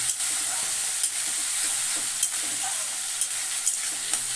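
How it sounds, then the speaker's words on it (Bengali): Fish frying one piece at a time in a large wok makes a loud, constant hissing sizzle, dotted with soft pops and light clicks. "মাছগুলো যাতে কত বড় কড়াইতে একটা একটা করে আমি ভাজি যাচ্ছি"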